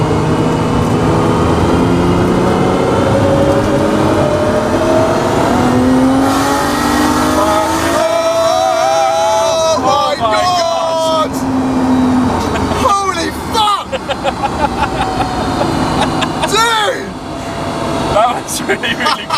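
A Nissan Skyline R32 GTST with a 2.3 Tomei stroker engine tuned to about 400 bhp at 16 psi boost pulls hard through the gears, loud rising engine and turbo whine broken by gear changes, with occasional talk from inside the car.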